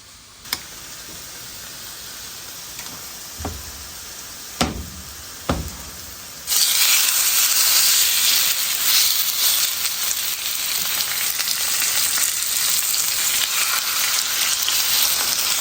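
A salt-and-pepper-seasoned steak goes into a hot cast iron pan. A few sharp knocks come first, then a loud, steady, close-up sizzle fills the rest.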